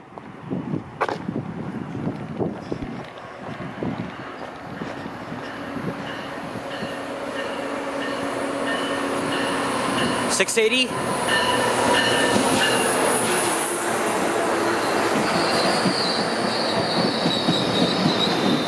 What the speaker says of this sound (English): Oh, there might be another train coming.